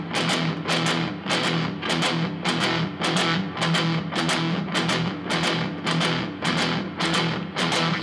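An electric guitar with heavy distortion plays fast down strokes in regular repeating bursts, a thick, saturated chugging rhythm that stays loud and steady throughout with no voices.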